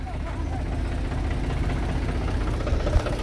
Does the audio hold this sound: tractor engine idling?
yes